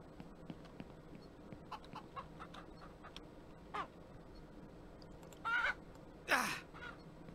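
Chickens on a farm in the video game Ranch Simulator, with a few short clucks and calls rising over quiet ambience, two louder squawks near the end.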